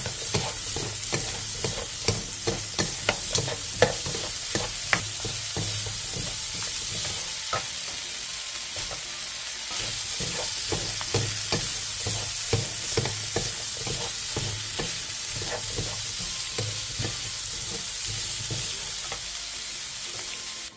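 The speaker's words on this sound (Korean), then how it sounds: "3분 정도 더 볶아주세요." Broccoli stir-fried with oyster sauce and minced garlic, a continuous sizzle punctuated by rhythmic scraping and tapping of a utensil against the pan, busier at first and then settling into steadier frying.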